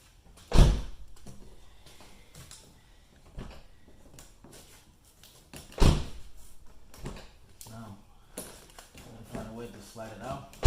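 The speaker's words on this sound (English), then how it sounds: "Now I'm going to close the door." A car door with a grinding fender stop is opened and shut, giving two sharp, loud thumps several seconds apart among softer creaks and handling noises, with a person talking at intervals.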